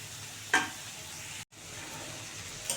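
Steady sizzling of tomatoes and vegetables frying in a pan for egg chowmein, with a brief scrape of stirring and a short break in the sound.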